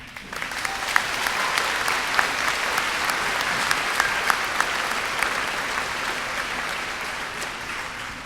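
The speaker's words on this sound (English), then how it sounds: "Can I get a round of applause?" A large crowd at a high school commencement ceremony claps in steady, dense applause, with a few sharper individual claps standing out, lasting throughout and easing off slightly at the end.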